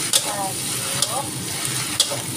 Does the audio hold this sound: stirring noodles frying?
yes